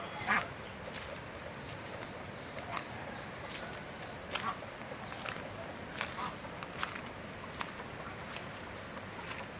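Scattered honks and quacks from ducks on a farm in Tuba, Benguet, rise above a steady outdoor background, a few calls standing out louder at irregular moments.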